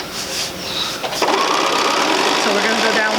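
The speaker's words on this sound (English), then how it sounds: "we're going to sew 1/4 inch on either side of the line" A sewing machine stitches a quilt block in a steady, close mechanical whir. It speeds up into continuous running after a second.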